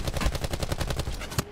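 Rapid gunfire from enemy players in a video game battle royale fight, a fast burst of roughly a dozen sharp cracks in quick succession, loud and close, ending with a heavier shot.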